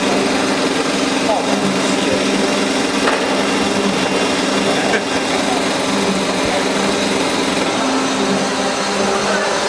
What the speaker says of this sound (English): we're going to do 2 more passes to take it down an additional 1 millimeter